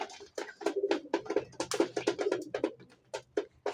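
Domestic pigeons coo in a dense run of repeated rounded calls near and moderately loud, with soft background noise and no talk.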